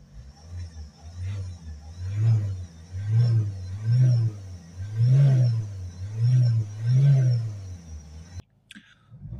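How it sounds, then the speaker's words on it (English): Ford S-Max 2.0 with an exhaust temperature fault being revved repeatedly, about seven evenly spaced rises and falls of engine pitch over a steady idle, then an abrupt cut near the end. "we're going to start the vehicle up. And we're going to give it a few revs"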